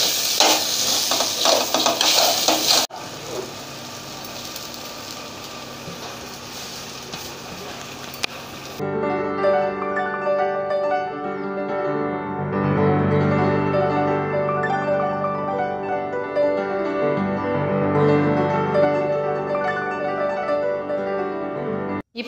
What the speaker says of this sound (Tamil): இப்போ எல்லாம் சேர்த்து நல்லா மிக்ஸ் பண்ணிக்கலாம்.